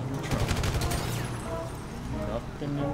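A rapid burst of gunfire in a GTA roleplay video game, dense cracking shots packed into the first second and then thinning out, with voices talking over the scene.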